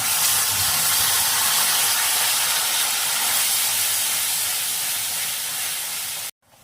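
Mustard and poppy seed paste hitting hot oil with nigella seeds and slit green chillies for a tangra fish curry, giving a loud, steady broadband sizzle that holds for several seconds before cutting off abruptly.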